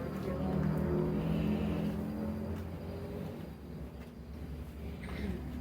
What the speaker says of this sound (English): Sounds like we got some traffic out there tonight.